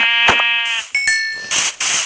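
A sheep bleats loudly up close in Minecraft, followed by a few sharp, bright electronic game tones and short noisy bursts.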